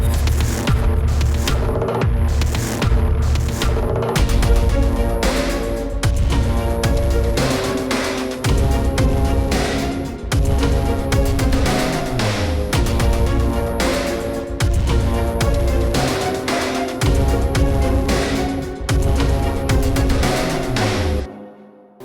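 A gothic song built on a chopped Gregorian chant riff plays with pounding drums and layered strings, a dense, loud, steady mix with a rhythmic pulse throughout and a brief drop near the end.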